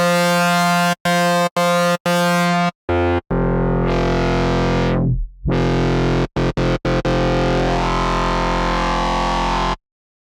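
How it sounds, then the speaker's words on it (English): A heavily distorted dubstep synth built in Ableton blares loud and harsh. It comes in choppy stabs, then a long sweeping pitch dive and rise, before sustained droning and a sudden stop. "Too much distortion, holy shit."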